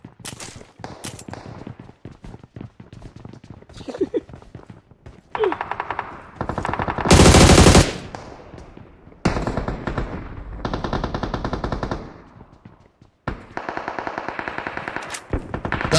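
Video game gunfire in rapid automatic bursts, loud and close, with short gaps between volleys and a few single shots, alone with no talk.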